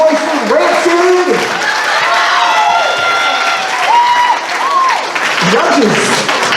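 A convention crowd at a fursuit dance competition applauds and cheers loudly, with whoops and shouted voices over dense clapping, close and sustained throughout.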